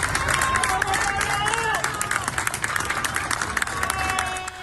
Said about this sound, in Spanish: Aplausos en Las Lanzas